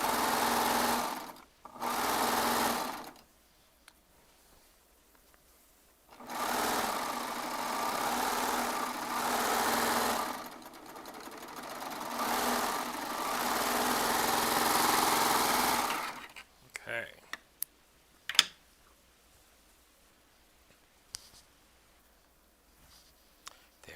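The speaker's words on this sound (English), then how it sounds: "the knife on the serger will trim all that for us" A Baby Lock Triumph serger stitches and trims fabric with its knife, whirring loudly in a few long runs broken by short pauses, then stopping for quieter handling clicks and taps.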